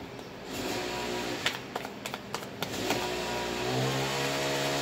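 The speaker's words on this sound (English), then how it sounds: "Damn, somebody's moped is loud." A loud moped engine runs outside, a steady mid-range drone heard from a distance with a few sharp knocks and revs, rising slightly toward the end.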